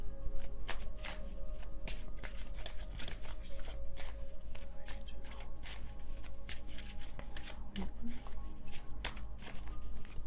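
A tarot deck that tends to stick is shuffled by hand, making continuous close crisp riffling and flicking with a steady rapid rhythm and occasional soft taps.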